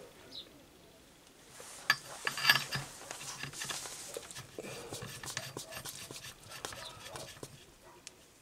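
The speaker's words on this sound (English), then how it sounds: "I'm just going to show you milling these slots on my Myford ML7 milling attachment Mark II." Myford ML7 lathe with a Mark II milling attachment cuts slots into a BSA Ultra muzzle brake, giving a steady low mechanical whir with scattered clicks and rattles, and a louder clatter about two seconds in.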